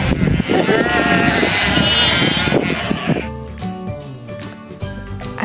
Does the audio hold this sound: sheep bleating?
yes